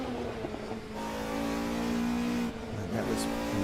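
Race car engine in the sim racing game Automobilista 2, revving hard with rising and falling pitch through gear changes, loud and continuous with brief dips between shifts.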